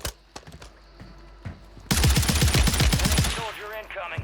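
Rapid bursts of automatic gunfire in the shooter game Warzone, a loud sustained volley of closely spaced shots following a quieter stretch of scattered distant pops.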